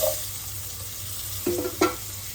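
Spices, including a little coriander powder, fry in a pan with a soft, close hiss, broken by two brief spatula scrapes near the end.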